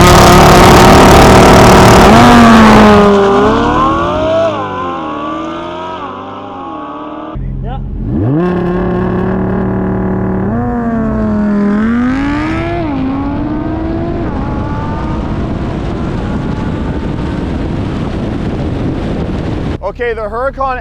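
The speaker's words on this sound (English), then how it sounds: "the Huracan absolutely gapped the C8, but I want to do it one more time" A Lamborghini Huracan LP610-4 all-wheel-drive and a two-wheel-drive C8 Corvette Stingray drag racing, loud engines revving through rising gear changes under heavy wind buffeting, receding to a distant drone.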